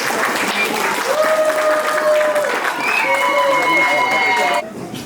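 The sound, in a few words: audience applause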